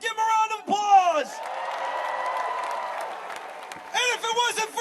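A large outdoor crowd at a men's basketball national championship parade applauds and cheers in a sustained roar, with loud amplified speech over the public address before and after the swell.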